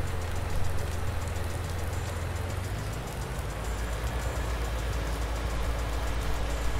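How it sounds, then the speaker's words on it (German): Rain falling steadily in a farming video game, a soft continuous hiss with a low engine-like hum underneath, no voices. "So, wir haben wieder mal Regen, ne?"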